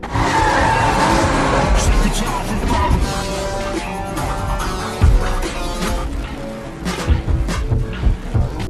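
Cars race in a Fast and Furious film scene, with roaring engines, tire squeals and skids, loud and busy, and dramatic film sound mixed underneath throughout.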